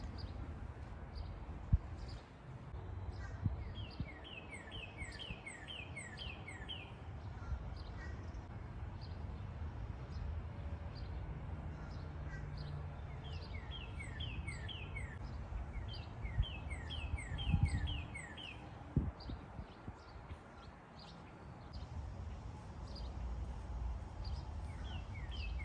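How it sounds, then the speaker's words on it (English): Repeated high chirps from small birds fill an outdoor scene, with steady low background rumble and occasional soft thumps like footsteps. "listen to the birds chirp"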